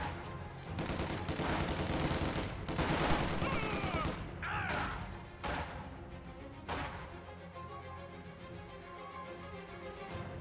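Dense wartime gunfire from a video game battle between Soviet and German Volksgrenadier forces, with rattling machine guns and heavy bursts piling up at first, then easing into sparser, sharper shots and distant thuds.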